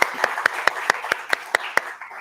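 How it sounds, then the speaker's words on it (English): Hand claps at a college honors recognition ceremony: about ten crisp, evenly spaced claps, close and distinct, sounding like one or a few people rather than a full crowd. "a round of applause for them."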